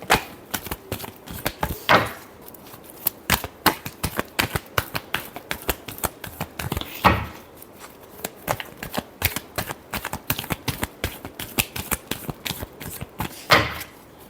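A deck of tarot cards being shuffled close by gives rapid, dense riffling clicks and flutters, broken every few seconds by a sharper burst as the cards are bridged together.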